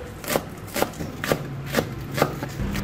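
Green onion leaves are sliced thin with a knife in about six evenly spaced, crisp chops at a steady rhythm, close and moderately loud.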